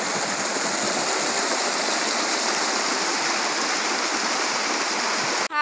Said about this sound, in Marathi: किती पाणी आलंय ओढ्याला.